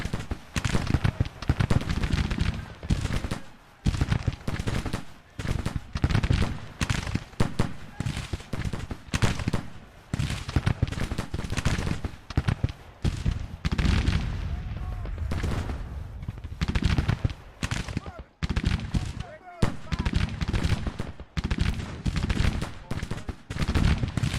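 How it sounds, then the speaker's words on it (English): Musket volleys fired at skirmishers in Grand Tactician: The Civil War: repeated crackling bursts and rolling fusillades across the whole stretch, dense and fairly loud, with brief gaps between salvos. "Just wasting shots at skirmishers right now."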